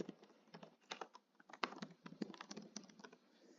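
Fingers type on a computer keyboard in a quick, irregular run of close, crisp key clicks, faint overall and with no voices.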